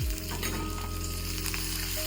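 Dried red chilli pieces and curry leaves sizzle steadily in hot tempering oil for pappu usirikaya curry, a loud, continuous crackling fry close up with a burst at the start as they hit the oil, no talking.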